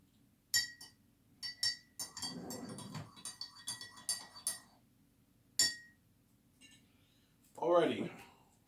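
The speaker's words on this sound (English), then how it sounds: "I'm stirring my my sweetener with my tea." A spoon clinks against the inside of a cup while stirring sweetener into tea, a series of faint, irregular taps and scrapes with a longer swirl near the end, heard close up in a quiet room.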